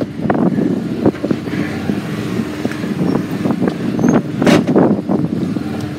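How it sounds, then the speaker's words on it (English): Strong wind buffets the microphone outdoors on a farm, rumbling in uneven gusts with one sharp, louder burst near the end. "That's a big burst of wind there."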